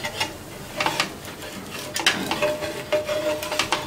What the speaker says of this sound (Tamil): தோசையை திருப்பி போட்டுக்கலாம்.